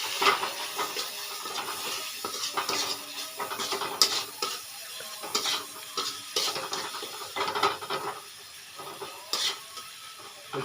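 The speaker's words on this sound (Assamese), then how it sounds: "এতিয়া লাৰি দিম" Carp fish curry being stirred in a pan after salt, cumin and chilli powder go in, with a steady steamy sizzle and repeated scraping clinks of a ladle against the metal throughout.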